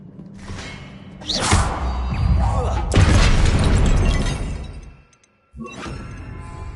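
Confringo blasting curses going off in the Hogwarts Legacy video game: a series of loud booming, shattering blasts with whooshing tails, a sharp crack near the middle and a brief silence before another burst.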